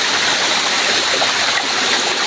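Waterfall on a mountaintop, a loud, steady broadband rush of falling water heard up close, continuous and unbroken with no talk over it.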